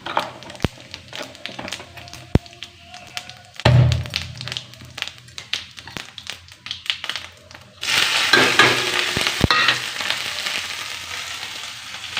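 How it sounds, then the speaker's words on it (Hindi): Potatoes sizzle and crackle in a hot tempering pan for an Indian potato dish, with scattered taps and stirring scrapes, the frying growing louder and fuller toward the end. "फटाफट से आलू की सब्ज़ी को छौंक लेते हैं।"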